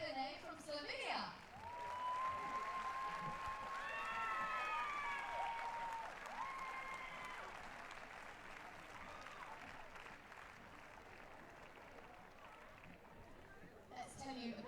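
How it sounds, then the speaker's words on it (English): Crowd applause for professional tennis players being introduced at a match, building and holding as broad, fairly faint clapping, while a high whistle-like tone rises briefly partway through. "I'd like you to give a huge round of applause, please. From Croatia, Marin Cilic, and his opponent"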